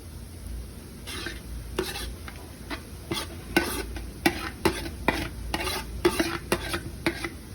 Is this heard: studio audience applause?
no